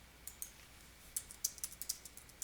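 A question is typed on a computer keyboard into a help search bar: soft, uneven key clicks in short bursts that grow busier toward the end, quiet and close.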